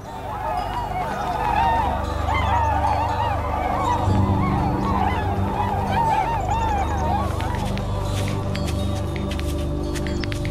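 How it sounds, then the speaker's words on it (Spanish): A flock of migratory birds in wild Alaska honking continuously, many overlapping goose-like calls close and loud over a low rumbling background, sustained for the whole stretch. "Las aves migratorias notan el cambio y emprenden su viaje hacia el sur"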